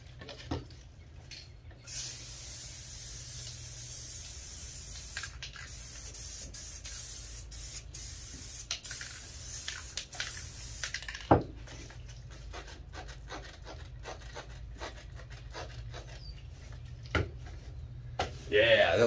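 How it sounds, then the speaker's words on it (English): White spray paint hisses from a can onto an epoxy surface in long continuous bursts broken by short pauses, close and steady, with a few knocks and handling noises between sprays. "I want to use my white metallic and diamond dust and my white spray paint."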